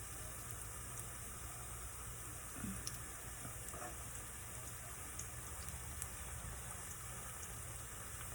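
Handmade sopes fry in hot oil with a faint, continuous sizzle and scattered small pops, steady and unbroken throughout.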